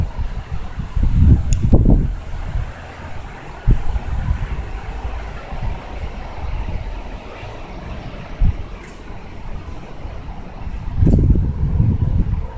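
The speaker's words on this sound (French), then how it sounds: "désolé en avance si le vent il fait un petit peu trop de bruit au niveau du micro" Gusty wind from a violent thunderstorm in Amiens buffets the microphone in low rumbling bursts, strongest near the start and end, with faint water and boat sounds underneath.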